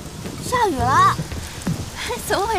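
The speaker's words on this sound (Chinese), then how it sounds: "我的天哪，怎么突然下雨了呀？" A sudden rain shower falls outdoors, a steady hiss and patter running underneath raised, surprised voices throughout the short stretch.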